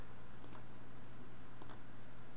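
Two pairs of soft, crisp mouse clicks, spaced about a second apart, sound over a quiet background hum as tabs are selected in a software interface.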